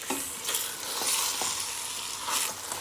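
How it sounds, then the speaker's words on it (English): Lamb is stirred through a sizzling stew pot, with a steady hiss and scraping swishes of the spoon coming in several sweeps up close. "I'm gonna add back the lamb now. And we're gonna give this a good mix."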